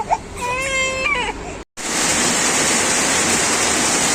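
Sudden heavy rain pours down outdoors after earlier thunder, a dense loud hiss that starts abruptly and continues steadily, preceded by a baby's brief crying.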